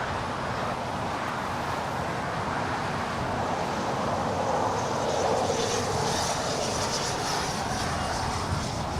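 A Spirit Airlines jet on approach to LAX runway 25 left makes a steady, broadband engine roar that holds at moderate loudness throughout, heard from a distance with faint traffic noise mixed in.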